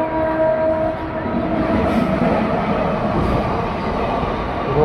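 A passenger train on the Chennai to Silchar route rolls along near Perambur station, giving a loud, continuous rumble of wheels and carriages close by, with no talking.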